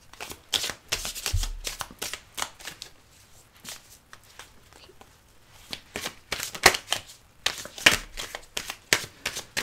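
Tarot cards shuffled in quick bursts of dense riffling and flicking, with short pauses between rounds, close to the listener and with no talking.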